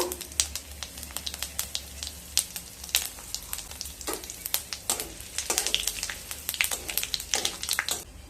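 Dry chilli, bay leaves, whole cumin and asafoetida sizzle in hot oil: a steady, close hiss of frying with dense popping crackles that grows busier toward the end, with no voices.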